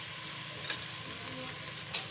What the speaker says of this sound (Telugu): తాలింపులో మంచిగా మగ్గేలాగా మగ్గించుకుందాము